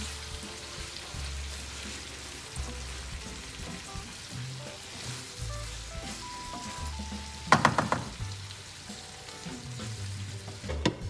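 Ackee and saltfish sizzle gently in a pan while a utensil stirs, with soft frying crackle throughout and a brief burst of louder scraping and clatter partway through.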